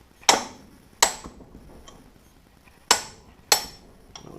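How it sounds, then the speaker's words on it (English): A spanner wrench strikes and works loose the transmission nut on a DeLorean during a gearbox rebuild. Four sharp metallic knocks ring out close up, in two pairs with a pause between them, with faint clinks in between. "I'm just going to see if I can get this to break free using this spanner wrench that I have here."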